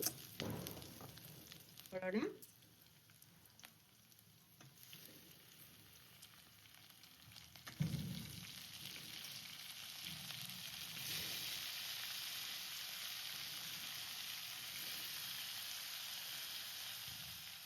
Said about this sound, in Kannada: ಬೆಳ್ಳುಳ್ಳಿ ಸ್ವಲ್ಪ ಫ್ರೈ ಆಗಲಿ.